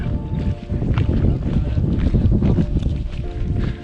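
Wind gusts roar across a mountain trail in the Alps, a loud, continuous rumbling buffet against the microphone with fluctuating bursts and no clear voices.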